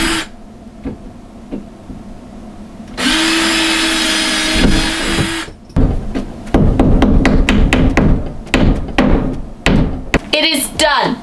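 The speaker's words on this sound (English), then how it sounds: "hammering in the wall plugs" A series of sharp hammer strikes driving wall plugs into a wall, close and loud, in an irregular rhythm, after a stretch of loud drilling.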